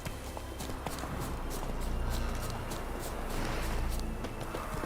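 Horse hooves in The Witcher 3 video game, a quiet, steady clip-clop of a running horse, rhythmic thuds repeating evenly for about five seconds with faint ambient background.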